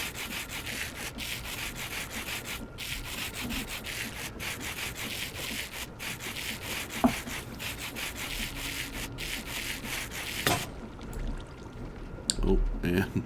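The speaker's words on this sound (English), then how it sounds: "you hold your sandpaper in one hand and your rose quartz in another, and you just right click and just polish away" Sandpaper rubs rose quartz in the Minecraft modpack StoneBlock 3, a steady rasping, sawing-like scrape repeating in quick pulses, with a voice talking over it.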